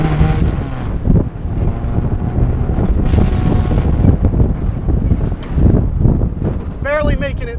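A 1954 Jaguar XK120 accelerating hard through the gears, its loud engine roar mixed with heavy wind buffeting, and a short whine at the end.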